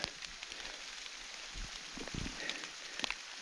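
Steady rain patters on foliage among young fir trees in a forest, a dense, even hiss with scattered nearby drips and rustles, continuous and fairly faint.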